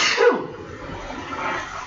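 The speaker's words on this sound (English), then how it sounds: "Sorry, sneezing off to the side there again." One sneeze turned off to the side during a card game commentary session, a brief breathy burst fading into a soft exhale.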